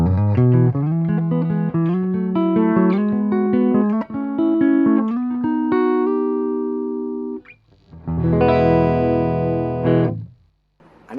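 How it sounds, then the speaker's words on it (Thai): Clean electric guitar, a Les Paul-style PV SC2, through a Peavey Envoy 110 amp, a run of picked notes and chords ringing out, then a pause and a final sustained strummed chord fading away. "ครับเรามาฟังเสียงคลีน ของ กีตาร์ที่เป็นทรง LP ดูบ้างนะครับ"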